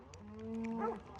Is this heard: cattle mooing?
yes